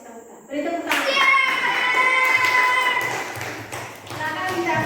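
Schoolchildren in a classroom clap their hands together in a loud burst that starts after a moment of quiet, mixed with children's voices and a rhythmic patter continuing to the end.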